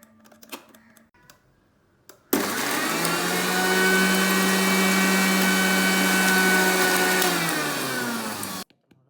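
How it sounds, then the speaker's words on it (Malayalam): A mixer grinder blends chopped ingredients in one continuous, loud electric whir that starts abruptly, holds steady for about six seconds and then cuts off, with faint handling noises before it starts. "ഒരു മിക്സി ഗ്രൈൻഡർ എടുത്തിട്ട് അതിലോട്ട് ചെറുതാക്കി അരിഞ്ഞിട്ടിട്ട് നല്ല പോലെ ഒന്ന് അരച്ചെടുക്കാം"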